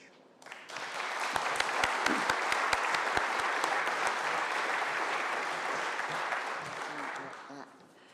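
An awards-ceremony audience claps to welcome a speaker to the stage, a dense sustained burst of applause rising quickly, holding steady for several seconds and tapering off, with a few louder individual claps near the front.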